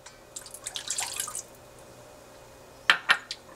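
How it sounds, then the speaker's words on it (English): Water poured into a pan while cooking vegan empanada filling, with a brief splashy trickle near the start, a quiet gap, then a few sharp drips and splashes at the end. "we're going to go ahead and add in our water"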